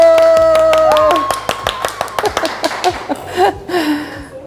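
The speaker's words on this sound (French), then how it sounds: "Bravo, on applaudit" A string of separate hand claps rings out at a children's cooking session making batter, loud and irregular, thinning toward the end with voices and tones mixed in.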